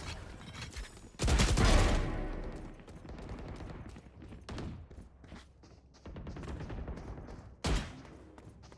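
Bursts of gunfire crackle through a gunfight in a competitive shooter deathmatch, with a loud close volley early on, scattered shots in between and another sharp burst near the end.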